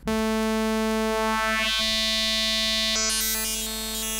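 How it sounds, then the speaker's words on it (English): A synthesizer tone using FM with a sine wave in Arturia Pigments' harmonic engine, with steady harmonics, holds and shifts pitch, then turns brighter and buzzier with metallic, bell-like overtones near the end. "we can add FM with a sine wave"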